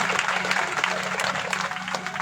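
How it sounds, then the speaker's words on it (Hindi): Brief, dense applause from an audience at a religious gathering, many hands clapping together steadily and fairly close throughout. "जोरदार ताली की सेवा करें।"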